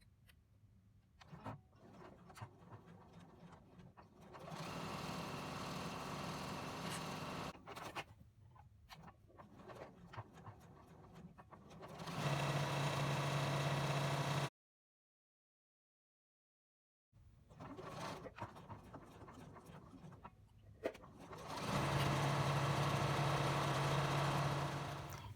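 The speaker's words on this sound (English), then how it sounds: "So one side, then across the bottom, and across the other side with a straight stitch and a 1/4 inch seam allowance." A sewing machine runs straight-stitch quarter-inch seams on canvas dropcloth tote fabric, heard as steady mechanical whirring runs in several bursts with a clean pause between them and quieter handling noise in between.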